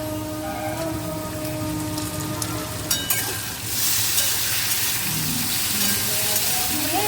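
Loud, continuous sizzling of prawns rubbed with salt and turmeric frying in a pan, briefly punctuated by a clatter, then a brighter hiss as the frying intensifies.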